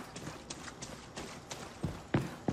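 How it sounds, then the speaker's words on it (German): A horse gallops in the video game Far Cry 6, a run of hoofbeats in quick rhythm that grows louder and closer toward the end. "Oh, da kommt ein Pferd, Bruder."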